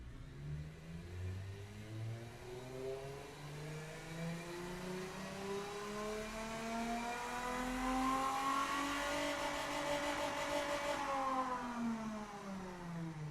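A 1996 Edison Star engine with a single reverse-flow muffler, simulated in the Automation car game, revs steadily upward on a test run, pitch climbing smoothly to a loud peak near the end before easing slightly, with no talk over it.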